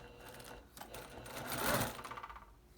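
A sewing machine stitches down the pleats of a homemade fabric face covering, running steadily at a fairly quiet level with a slight rise in speed and loudness midway through.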